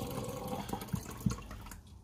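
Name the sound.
water being poured from a jar for bread dough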